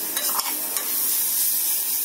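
Grated carrot for halwa cooking in ghee, stirred in a pan: a continuous close sizzle with a few sharp scraping clicks at the start, no talking.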